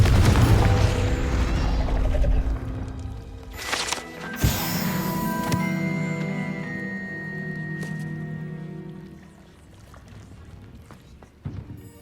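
A Confringo spell blast goes off in Hogwarts Legacy on Xbox Series X: a sharp, loud burst over a busy spell-combat soundscape, followed by a lingering tonal ring and rumble that fades into quieter ambience.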